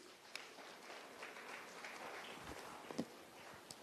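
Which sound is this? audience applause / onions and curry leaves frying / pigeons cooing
audience applause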